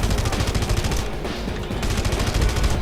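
Rapid, dense gunfire from manned guns in the video game Red Faction rattles without a break, loud and continuous with overlapping shots.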